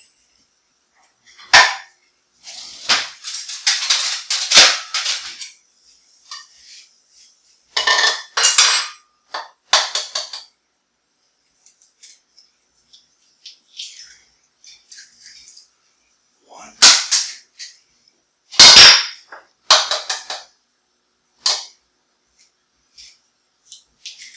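Two eggs beaten lightly with a utensil in a bowl while baking homemade peanut butter cookies, giving bursts of quick clinking and tapping strokes separated by pauses, close and fairly loud, with a person talking at times.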